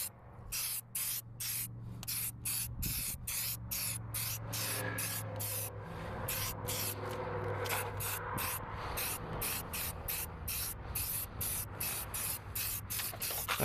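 Spray paint hisses onto the seams of a plastic car bumper in quick repeated bursts, each short blast separated by brief pauses, over a steady low background hum.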